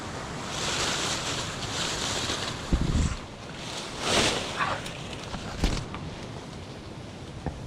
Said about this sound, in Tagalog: Kakapangilo, lakas ng hangin.